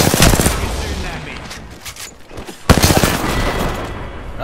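Rapid automatic gunfire rattles in an Apex Legends match, loud close bursts of quick repeated shots that pause briefly midway and then resume with a sharp crack.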